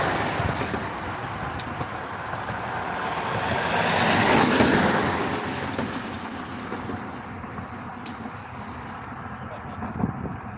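Road traffic near a Texas stream: a vehicle approaches with a rising rush, peaks at mid-clip and fades away, leaving a steady roadside hum with faint knocks and clicks.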